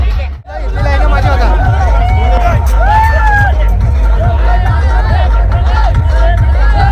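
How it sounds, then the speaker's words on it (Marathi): A dense, loud crowd at a bullock race ground in Malshiras, a constant roar of excited voices and shouts with people talking close by. "मित्रांनो जल्लोष बघा"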